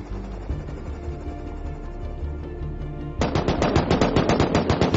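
An AK rifle fires in the survival video game Rust, a rapid burst of loud, close automatic shots starting partway through over a low rumbling game background.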